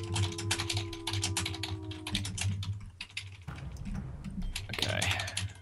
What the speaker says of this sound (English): Somebody's typing.